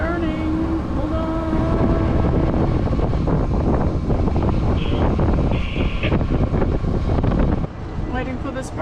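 Gusty wind buffeting the microphone on a sailing boat, loud roaring rushes that swell and ease, with bits of talk underneath.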